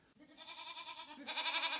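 One goat gives a single drawn-out, wavering bleat that swells louder toward its end, heard alone and fairly quietly.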